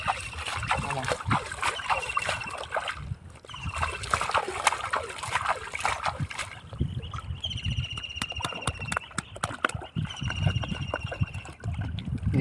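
A rooster being trained to swim splashes and churns through water nearby in a continuous, uneven wash, with thin high chirping cries breaking through in the second half.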